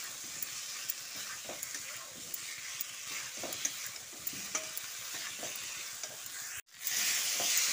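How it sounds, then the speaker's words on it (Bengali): Fried potatoes are stirred into sizzling spice paste in a pan, with steady frying hiss and repeated scraping strokes running throughout, briefly cut near the end before the loud sizzle returns. "এবার ভেজে রাখা আলুটা দিয়ে দিচ্ছি। আলুটা দিয়ে মশলার সঙ্গে ভালো করে মিশিয়ে দিচ্ছি।"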